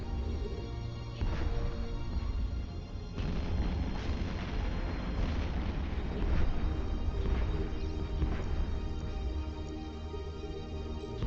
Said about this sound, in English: I like to warp into the middle of them and see all of the explosions around me.